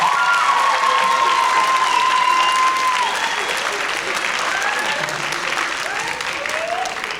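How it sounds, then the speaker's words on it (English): A big round of applause from an audience in a school room for Officer Lamont at a drive-responsibly event, loud and sustained throughout with scattered cheers and voices mixed in, slowly easing toward the end. "I hope we give him one more big round of applause."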